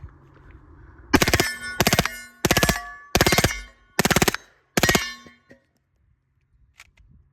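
A suppressed HK MP5K fires 147 grain subsonic rounds in six short bursts of loud metallic clanking shots, evenly spaced, followed by a couple of faint clicks.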